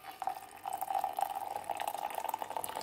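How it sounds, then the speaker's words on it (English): Hot water pours steadily into a cup holding dandelion flowers for tea, a continuous close, moderately loud trickling and splashing that runs throughout with no talking. "I'm gonna pour some hot water into the cup"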